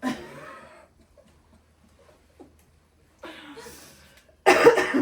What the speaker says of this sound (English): I've got a really bad cough